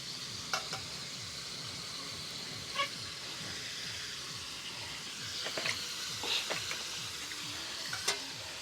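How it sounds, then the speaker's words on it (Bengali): Chopped onions sizzle steadily in a pan with ginger paste and dried chili for Old Dhaka Haji-style biryani, while a spoon scrapes and stirs in irregular strokes, close and moderately quiet, with no talking. "একটু ভালো করে এখন একটু নেড়ে দিতে হবে।"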